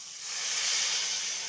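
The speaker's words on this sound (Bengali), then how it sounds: "আমি একটুখানি জল ঢেলে" Water poured into a hot pan of spices with ginger paste and sugar, for a thin gandal-leaf curry, gives a short, loud, steady steam hiss that rises and holds, with no talk.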